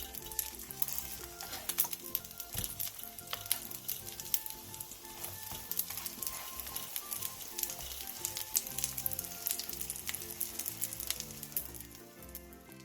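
Battered zucchini pancakes (jeon) fry in a pan with a continuous crackling sizzle and dense spattering, close and steady throughout with no talking.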